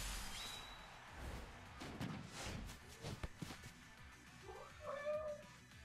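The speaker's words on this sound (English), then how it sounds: "My cat wants to go outside" A pet cat named Mona meowing to be let outside into the backyard, several close, drawn-out meows spread across the moment with some thumps and footsteps in a quiet room.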